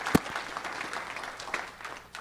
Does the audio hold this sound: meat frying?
no